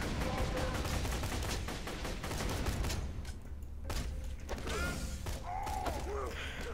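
A Vladof gun firing in the looter shooter Borderlands 2: rapid, steady automatic bursts rattle at a fast clip, briefly pause, then resume alongside mechanical clacks and creaks, fairly quiet overall in a busy game mix.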